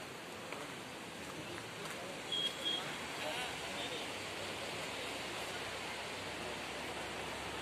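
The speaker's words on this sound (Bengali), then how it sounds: "ঝর্ণাটা এখান থেকে পড়ছে," A Sikkim waterfall on the road to Pelling gives a steady, even rushing roar throughout, while a person speaks over it.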